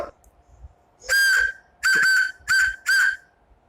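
Four loud, clear whistle tones made by blowing across the edge of a plastic pen cap, the first two sustained and the last two shorter, sounding close over a faint steady hum.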